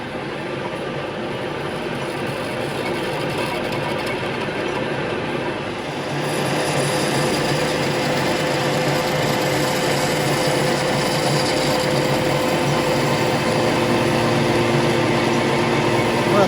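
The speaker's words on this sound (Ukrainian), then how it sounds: "станок дуже довго робить, але вихід є, бачите, чисто точить гарно" Metal-turning lathe slowly machining a worn pellet press die, a steady dense grinding whir that runs continuously and grows slightly louder partway through, with no talk.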